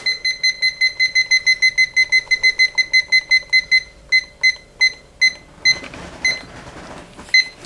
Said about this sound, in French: avec mon minuteur qui est super